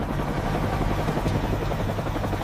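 Military helicopters flying toward a battlefield in an AI-made war short film, a loud close continuous rotor thump and engine roar that fills the whole stretch without voices.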